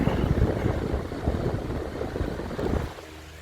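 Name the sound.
loose cage rattling on Holmes high velocity fan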